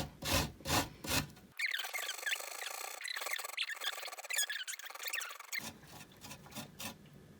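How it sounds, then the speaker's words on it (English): Fresh ginger is scraped across a kitchen grater in a steady run of rough rasping strokes lasting several seconds, close and fairly quiet, with brief thumps before and after. "when you're grating your ginger, just be careful you don't grate your fingernail off"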